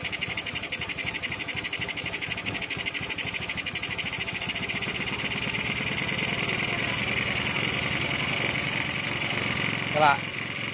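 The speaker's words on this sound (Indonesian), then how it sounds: "bisa didengarkan juga untuk suara keborosan, biasanya seperti ini suaranya ya" A stock Honda Beat scooter engine fitted with a PE 24 carburetor runs steadily at close range with an even, buzzing idle rhythm, and a brief blip of revs near the end.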